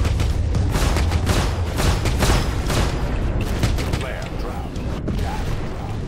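Dense, continuous turret gunfire and booming blasts in the Star Citizen space game from a Vanguard Warden ship, loud and steady throughout with speech murmuring underneath.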